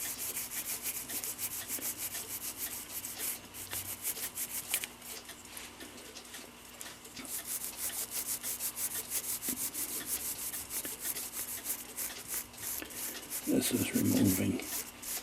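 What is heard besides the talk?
scrubbing dirt and corrosion off clock parts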